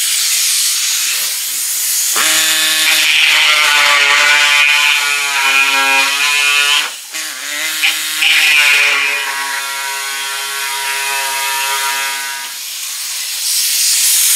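Power cutting tool notching a front body part on a 1934 Ford Coupe, a loud close high whine with steady tonal harmonics over hiss, briefly dipping midway, then winding down, no talk.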